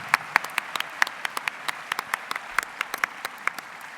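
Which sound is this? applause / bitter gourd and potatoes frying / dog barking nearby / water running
applause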